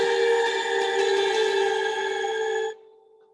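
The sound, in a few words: Eventide H9 reverb pedal effect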